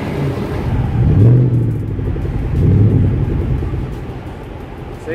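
A Ford Mustang GT convertible at a Mustang Day parade on a circuit, its engine rumbling close and loud with two swelling revs amid steady low idle and nearby cruising cars.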